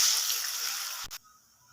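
Water hits a hot pan of frying onion and ginger-garlic paste, producing a bright, close hissing rush that lasts about a second before cutting off abruptly into near silence.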